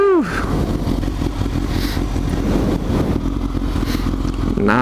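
A motorcycle engine idling steadily and fairly close during a practice ride, with a constant low rumble and short whistling tones at the start and end.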